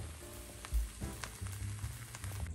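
A liver pancake batter fries in a pan, giving a steady low sizzle with a brief thump near the start, close by and moderately quiet, with no talking.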